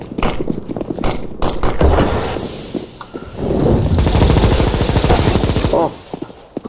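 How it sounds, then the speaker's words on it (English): Sustained Negev machine gun fire in the CS:GO video game, long loud continuous rattling bursts with overlapping shots from several players and clinking shell sounds, mixed with game effects. "we're gonna have a Negev war."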